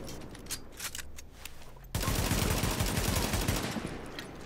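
Enemy gunfire in Tom Clancy's The Division erupts abruptly after a quieter stretch, turning into loud, sustained rapid bursts of automatic fire that keep going to the end.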